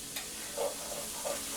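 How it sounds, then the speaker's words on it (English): Flour roux sizzles quietly in a hot pan while a utensil stirs it, giving a soft steady hiss with a few brief scraping strokes, close and without talk. "you want to stir that around quick so it doesn't burn"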